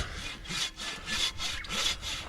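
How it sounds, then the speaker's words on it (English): A Silky Katana Boy hand saw with a long blade cuts through wood outdoors in the bush, giving about five steady rasping push-pull strokes in an even rhythm, close and clear with no talking. "When you don't bring your chainsaw, Silky Katana Boy to the rescue."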